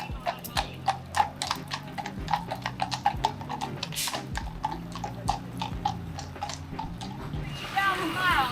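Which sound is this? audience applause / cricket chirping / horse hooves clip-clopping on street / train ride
horse hooves clip-clopping on street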